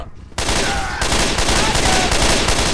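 Dense, loud gunfire fills a Left 4 Dead 2 realism versus match, with rapid overlapping shots sustained after a brief quiet opening.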